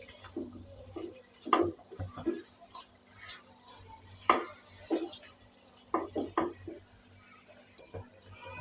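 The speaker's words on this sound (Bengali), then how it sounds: "মাছের মাথাটা দিয়ে আমি এখন ভালোভাবে আবার কষাবো" Katla fish head being fried with spices in a pan, a faint sizzle under scattered light scrapes and clinks of a spatula stirring, quiet and close.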